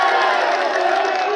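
A crowd at a political rally roars and cheers in a dense, continuous wash of voices and clapping, loud and unbroken for a brief moment.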